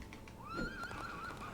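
A horse in the Disney Infinity video game lets out a loud, rising whinny that holds for about a second over a steady background rumble, with faint hoof clip-clop beneath it.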